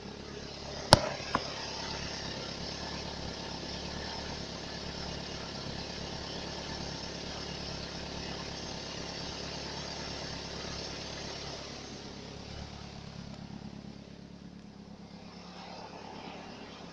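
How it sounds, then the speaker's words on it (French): A steady Fiat GT turbo engine, fitted in a Fiat X1/9 prototype, drones continuously at moderate volume, with a couple of sharp clicks near the start and the sound thinning out toward the end. "Voilà, le moteur tourne bien."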